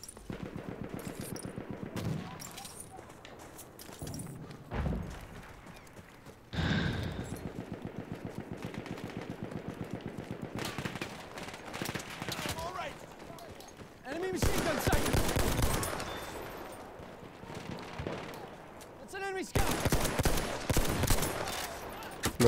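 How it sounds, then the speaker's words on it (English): Machine gun fire in the video game Battlefield 1, bursts of automatic shots rising and falling across the scene, mixed with other battle noise and a voice speaking at times. "Machine gun right there!"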